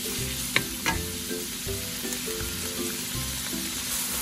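Pork browning in a pan for crispy vegetable pancit with shrimp: a steady, close frying sizzle runs throughout, with a few sharp clacks and scrapes of stirring, no talk.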